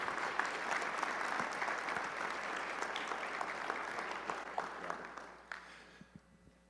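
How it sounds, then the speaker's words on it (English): An audience at a fall school staff training session claps in a sustained round of applause, a dense, even patter of many hands that gradually thins and fades out. "Will you please give them a huge round of applause for me?"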